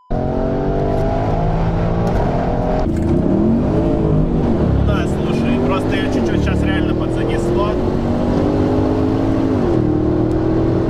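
A performance car launches hard from a standstill using launch control. Its engine roars up through the revs in a loud, rising sweep with a brief drop at a shift, while voices talk over it.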